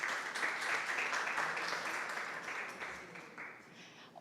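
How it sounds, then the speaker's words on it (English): Audience applause for the founders of the SATC Alumni Association, a steady wash of clapping from a room full of people that thins gradually toward the end, with no voices over it. "I think that deserves a round of applause."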